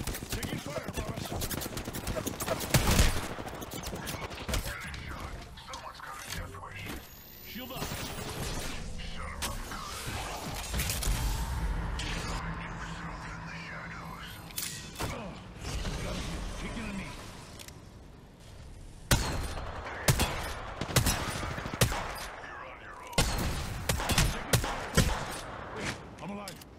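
Bursts of rapid gunfire and loud shots in the Apex Legends battle royale game, coming in clusters throughout, mixed with mechanical clatter and a person talking over them.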